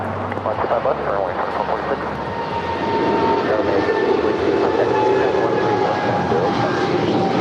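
A fixed-wing airliner roars down to land on runway 25 left at LAX, a broad steady engine rumble that swells and holds loud, with faint radio chatter running underneath.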